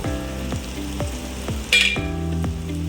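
Kothimbir vadi pieces fry in a little oil on a pan, a close, steady sizzle with a sharp bright flare of hissing midway and faint tonal hum and clicks underneath.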